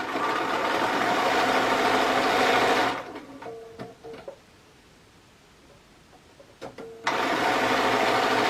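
An electric sewing machine stitches parasol tops, running with a steady, loud motorized whir, stopping for a few seconds of quiet with small clicks and handling noises, then starting up again.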